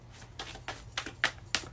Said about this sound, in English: I pulled that card before, so I'm going to reshuffle